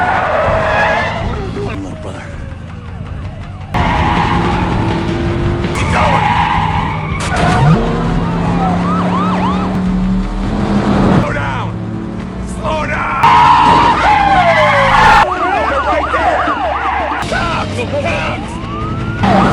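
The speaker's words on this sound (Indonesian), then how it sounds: "sempat terjadi aksi kejar-kejaran antara driver dan polisi" A movie car chase with police sirens wailing and tires screeching in repeated skids; loud, continuous engine roar and crashes build throughout, with voices occasionally under the din.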